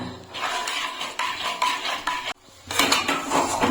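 A utensil scrapes and stirs semolina dough against a metal pan in continuous rasping strokes, close up, with a brief pause before louder scraping resumes.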